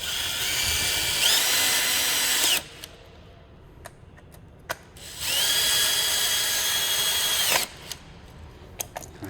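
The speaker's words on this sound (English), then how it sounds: "Okay, I will put these screws in." A power drill drives screws into a mount in two loud, whining bursts of a few seconds each, with the motor pitch dropping as each screw seats, separated by a pause of light clicks and handling noises.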